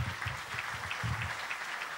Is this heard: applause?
yes